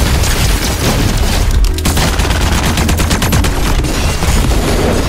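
Unreleased guns firing in a video game: loud, dense bursts of rapid gunfire with booming reports that run continuously through the whole stretch, with no pauses.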